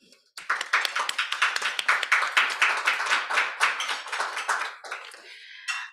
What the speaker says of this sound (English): give yourselves a round of applause for the great work that you do